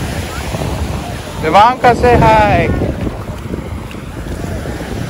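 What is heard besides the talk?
crowded beach with wind and waves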